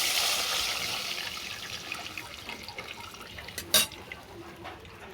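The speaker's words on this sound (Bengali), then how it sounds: "এরপর তেঁতুল জলটাকে এতে দিয়ে দেবো।" Tamarind water is poured into a pan of hot oil with fried dried red chilli and bay leaf, giving a bright hissing rush that gradually fades, with a short sharp splash near the end.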